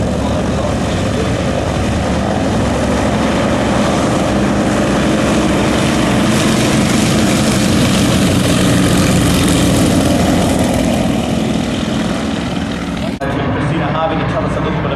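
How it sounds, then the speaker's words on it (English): Six Yak-52 propeller aircraft flying a formation loop at the Warbirds over Wanaka 2008 airshow, a continuous loud droning buzz that holds steady for most of the stretch, with commentary talking over it. "the Yak 52s. They're rolling in now for a 6-ship loop, led by JP John Parker"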